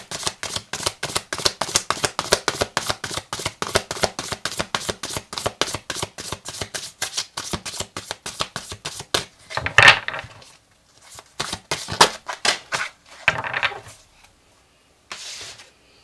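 Fabric oracle cards shuffled by hand for a tarot reading, a rapid steady run of soft slapping riffles close up, followed by slower irregular shuffles and brief pauses near the end.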